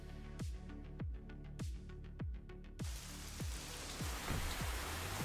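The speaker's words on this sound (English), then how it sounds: "Oh, it's raining." Rain falls around a Volvo truck in a European truck driving simulator game. Steady rhythmic knocks come first, then a loud, wide hiss of rain sets in and continues to the end.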